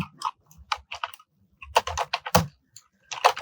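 Fast bursts of typing on a computer keyboard while writing Python commands, close and fairly loud, in irregular clusters of keystrokes separated by short pauses.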